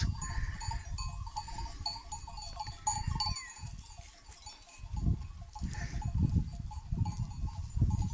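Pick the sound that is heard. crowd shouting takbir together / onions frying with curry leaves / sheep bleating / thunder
sheep bleating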